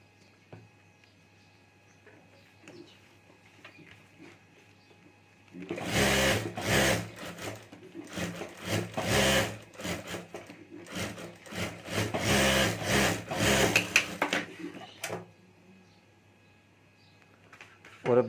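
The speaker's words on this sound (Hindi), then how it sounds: "और अब यहाँ भी हमें चारों तरफ सिलाई कर देनी है।" Sewing machine stitching around the lining of a handmade clutch purse, a steady run of close, loud stitching bursts lasting about ten seconds between quiet pauses, with no speech.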